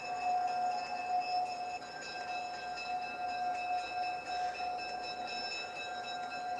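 A commuter-style train in Roblox with EMD F7 locomotives at each end runs steadily, a constant rolling rumble with sustained tonal hums throughout, no talk.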